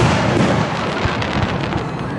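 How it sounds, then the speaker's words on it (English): Fireworks bursting in a dense, continuous barrage of pops and crackles, loud and close, with overlapping explosions and no clear pauses. "Fireworks."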